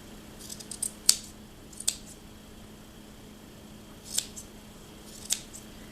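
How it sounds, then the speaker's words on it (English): Scissors snip at a yarn pom-pom in quiet, close, separate cuts spread across the clip, with a faint steady hum underneath. "then you must just start trimming it up to the size you want it to"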